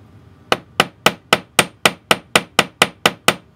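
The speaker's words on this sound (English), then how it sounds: "I'm going to take the same link, but I'm going to hammer the loop." A hammer strikes a wire chain link loop to flatten it, making twelve sharp, evenly spaced metallic taps that ring close and loud with no talk.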